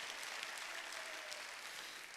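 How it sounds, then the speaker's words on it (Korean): Church congregation clapping during a Korean Sunday worship service, a dense, steady wash of many hands applauding at once, fairly distant and even. "박수치라"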